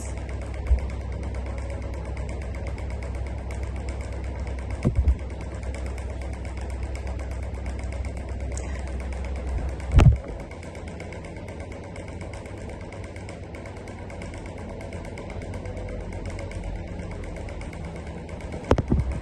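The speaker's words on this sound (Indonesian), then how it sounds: "Maaf ya teman-teman kalau ada suara kipas." An electric fan runs in a boarding-house room, giving a steady, even whir with a low hum underneath. A few brief knocks break through now and then.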